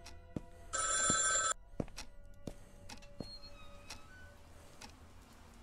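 A telephone rings once in a horror video game, a loud bright electronic bell burst lasting under a second, followed by quiet ticking and sparse clicks in a hushed room.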